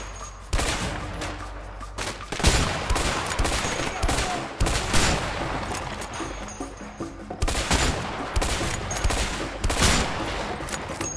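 Gunfire from a shootout in the game A Way Out, set at a mansion: repeated loud bursts of shots ring out over about eleven seconds, with short gaps between volleys and no talking.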